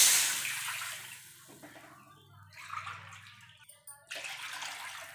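Water pours into a pot of rava for rava kesari, a steady splashing stream that is loud at first, then fades and returns in bursts before a final steadier pour.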